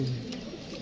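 A single low, throaty coo from a lone Teddy pigeon, brief and close, fading into quiet background hiss.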